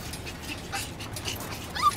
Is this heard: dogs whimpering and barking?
yes